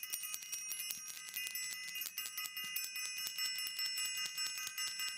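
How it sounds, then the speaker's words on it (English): A bell is rung repeatedly in quick, steady strikes, its bright ringing tones sustained and fairly loud throughout, with no talking over it. "I'm going to definitely ring this bell."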